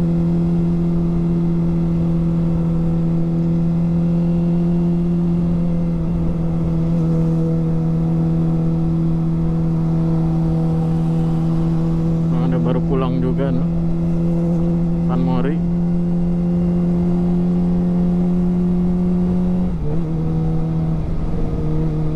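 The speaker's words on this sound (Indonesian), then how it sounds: "Lagi main motor cross juga nih, panas-panas." Motocross motorbikes run on a dirt track at Sentul in the midday heat, giving a loud, steady engine drone with a few brief sharper bursts midway through.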